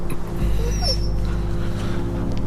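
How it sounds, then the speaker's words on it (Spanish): Injured dog whimpering in short, thin yelps and whines over a steady low engine-like hum, fairly close. "Es el perro de los Wharton"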